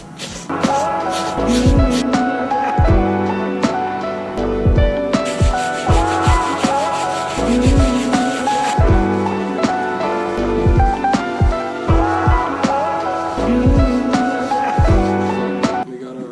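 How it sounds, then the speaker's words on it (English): A Nike Panda Dunk Low sneaker is scrubbed clean with a brush: dense, close rhythmic scrubbing strokes run throughout, with soft knocks and brief pauses between passes. "We got our first shoe scrubbed down."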